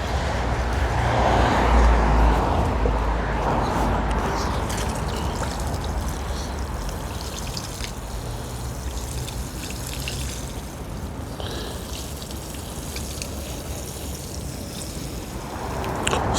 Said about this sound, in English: we just got to water it with some fertilizer